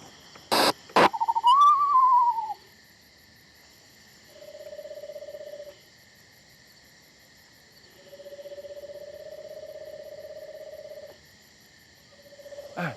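A barred owl calls at night in a wooded Bronx park, its hooting phrases drawn out and moderately loud, rising then falling, spaced by quiet gaps after a couple of sharp knocks at the start.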